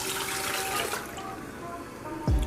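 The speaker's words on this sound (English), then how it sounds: "We're gonna add 2 cups of water." Room-temperature filtered water, about two cups, pours into a Ninja blender holding tomatoes, a steady splashing rush for a couple of seconds that ends with a short thud.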